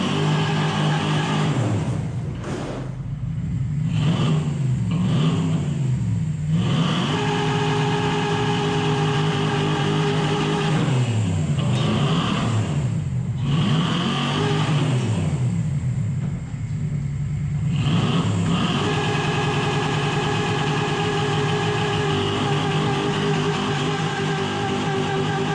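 Front dig burnout with an automatic car engine hammering the rev limiter: a loud, sustained high-rpm roar with repeated stuttering cut-outs and rises over about twenty-five seconds, close and continuous with no talking.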